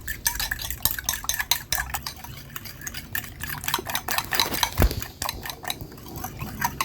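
A mixture with a spoonful of milk is whisked briskly in a bowl, giving rapid repeated metallic clicks and scrapes that come close and loud, with one sharper knock near the end.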